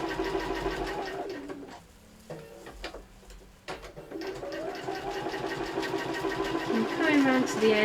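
A sewing machine stitching fabric pot caps runs in a steady mechanical whir, stops briefly near the middle, then starts up again and keeps sewing. It is close and fairly loud, with a voice talking over it.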